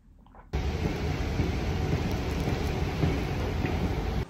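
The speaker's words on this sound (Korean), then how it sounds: "지금 비가 살짝 오네요" Light rain falls steadily outdoors, a continuous close hiss of drops that starts abruptly and stays even, with no voices.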